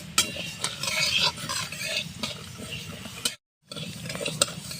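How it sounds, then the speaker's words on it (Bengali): Moong dal is stirred while it fries in a pan, giving a steady sizzle with scraping and clinking from the spoon. The sound breaks off briefly near the end and then carries on. No voices. "মুগ ডাল আমি ভেজে নিচ্ছি আড়াইশো ডাল আছে এখানে ডাল আমি ভেজে নিচ্ছি"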